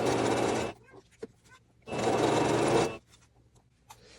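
A sewing machine stitches bias binding onto fabric in two loud, close bursts of steady motor whir, separated by quiet pauses with small handling sounds.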